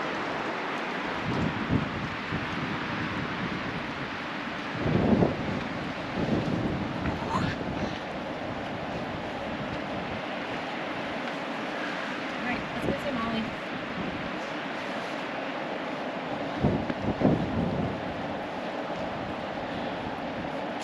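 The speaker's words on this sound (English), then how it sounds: "Lots of wind up here." Strong wind buffets the microphone in a steady roar with gusty bursts at Fall Creek Falls State Park, and voices talk faintly underneath.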